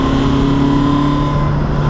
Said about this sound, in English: The motor itself though just makes a glorious sound.